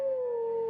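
A single sustained howl answers from the surrounding forest, steady and fairly faint, with no talk over it.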